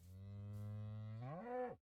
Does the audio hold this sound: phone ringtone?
no